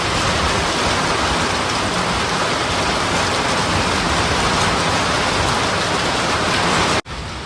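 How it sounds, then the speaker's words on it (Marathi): Sudden dense, heavy rain pours down at night in farm fields in a constant hiss, loud and unbroken, with no voices, cutting off abruptly near the end. "अचानक आलाय पाऊस अचानक"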